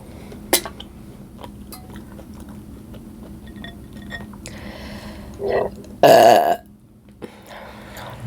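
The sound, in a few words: burp while eating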